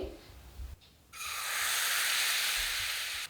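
Batter of semolina and gram flour is poured onto a hot greased pan over low flame and breaks into a sudden loud, steady hissing sizzle after a brief quieter moment.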